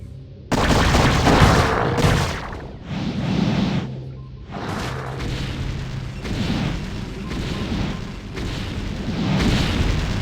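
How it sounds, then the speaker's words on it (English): Explosive charges detonate in a StarCraft cutscene as a string of heavy booms and rumbling blasts, loud and close, rolling on one after another with a low tone running underneath. "Duran, ignite the charges."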